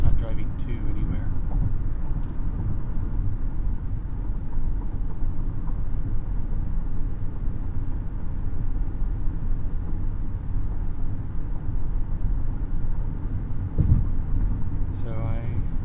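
Steady low engine and road rumble inside a car cruising late at night, continuous and even throughout, with a soft voice talking faintly over it.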